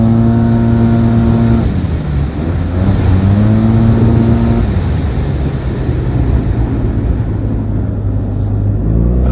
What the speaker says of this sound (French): Petit retour de flamme qu'on entend bien.